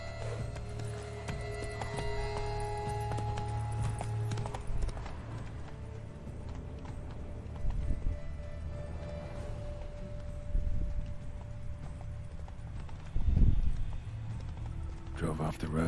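Horse hooves clip-clop in The Witcher 3 as a horse-drawn ride runs along a road, a steady trotting rhythm under a voice and game ambience, with a couple of louder thuds near the end.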